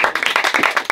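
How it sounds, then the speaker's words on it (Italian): Quick bursts of hand clapping from a small group, close and brisk, lasting about a second. "Un applauso!"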